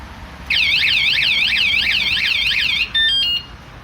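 A wsdcam 113 dB bike alarm sitting in its battery case blares a loud, continuous warbling siren for over two seconds, then breaks into a short burst of steady electronic beeps before cutting off.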